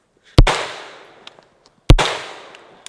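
A pistol caliber carbine firing two sharp, loud shots about a second and a half apart outdoors, each followed by a decaying echo, with faint clicks in between and no talking.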